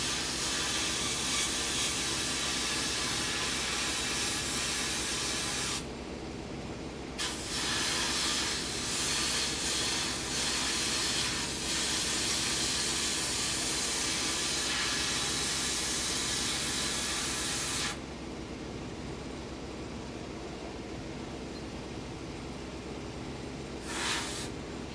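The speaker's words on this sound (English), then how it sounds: "These are glass beads that I'm spraying with." Glass-bead blasting on a part being cleaned for powder coating produces a loud continuous spraying hiss that cuts off briefly, returns, then drops to a quieter steady hiss for the rest.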